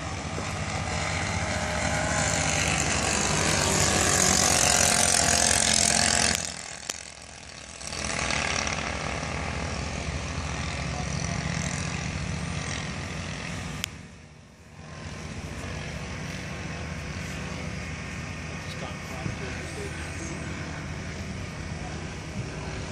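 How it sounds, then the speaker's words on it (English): A radio-controlled model Cessna 337 plane flies with a steady, buzzing electric motor whine that stays loud and continuous, briefly dropping out twice before resuming. "Let's run my little plane I'm flying."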